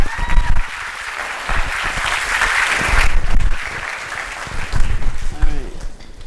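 Sustained audience applause at a leadership speaker event, a dense wash of clapping that swells and then fades toward the end, with a few voices mixed in.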